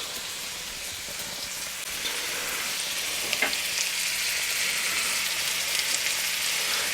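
Oil sizzling and spitting in a frying pan close to the microphone, a steady dense crackle with a few sharper pops, no talk.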